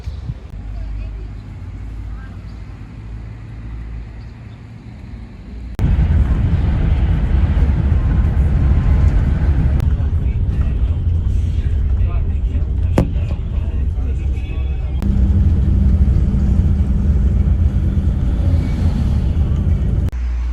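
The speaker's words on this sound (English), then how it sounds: "Here's the bus to Brasov." Onboard a bus heading to Brasov, a steady low engine rumble and road roar fills the cabin, jumping louder partway through and holding constant with faint rattles.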